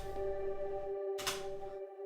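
A sustained synth pad chord with a soft, washy reverb tail, swelling briefly with a brighter shimmer near the end.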